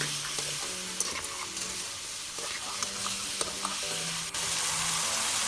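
Spicy tomato sauce is stirred through a frying pan, giving a steady wet scraping and soft sizzle close by, with low tonal sounds running underneath throughout.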